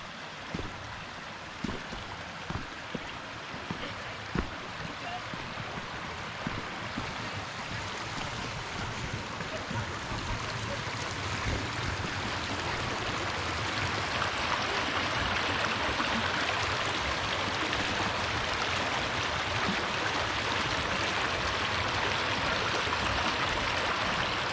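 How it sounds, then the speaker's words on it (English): Peabody Creek in Olympic National Park rushes steadily, a continuous broadband water roar that grows slightly louder and fuller over time, with a few faint footsteps or knocks early on. "Here's the creek."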